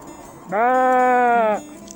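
A single sustained sheep bleat, loud and fairly close, rings out for about a second in an outdoor picnic and nature recreation area near Vezirköprü, with faint background noise before and after.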